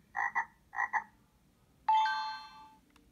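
Two short paired electronic croaks from a LeapFrog toy laptop, each a quick double pulse, followed by a sustained bright chime tone that fades out; close and clear, with no talking.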